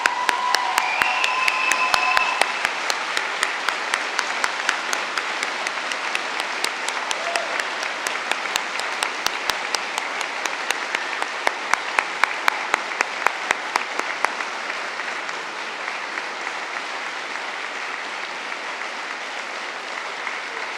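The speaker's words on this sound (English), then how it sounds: "Please, graduates, stand and applaud your supporters this afternoon." Graduates at a London degree ceremony stand and applaud their supporters, a dense, steady wash of clapping from a large crowd that runs strong for about fifteen seconds and then gradually thins and fades.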